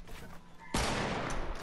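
Gunfire from a building-style shooter game in creative mode, a sharp loud blast that bursts in partway through and rings out as a dense sustained roar until the end.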